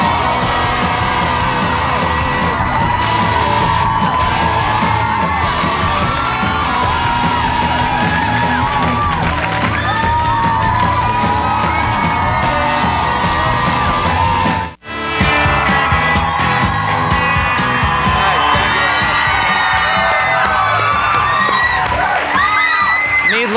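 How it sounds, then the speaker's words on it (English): A large studio audience cheers, whoops and applauds loudly and continuously, a dense roar with one sudden brief dropout midway. "some extra applause tonight"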